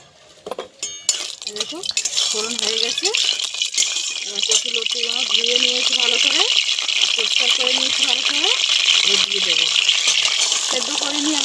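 Kochu loti (taro stolons) frying with panch phoron in hot oil, a continuous loud hiss and sizzle that builds and holds, with metallic clinks of a spatula against the pan at the start.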